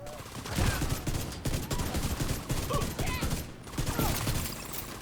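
Rapid automatic gunfire from a weapon in The Division 2, a dense continuous burst of shots for several seconds, loud and close, with game effects and a voice faintly underneath.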